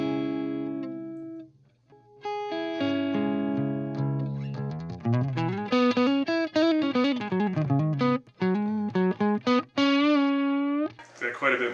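Clean-tone electric guitar fitted with EMG 5766 pickups, warm and fairly hot, played as a melodic run of single notes and chords at steady close loudness with brief pauses, with no talking.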